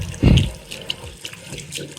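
Water gushes from a bathroom sink tap in a guest room in a village in Cuba's Escambray mountains, a brief close splash at the start that settles into faint running and dripping.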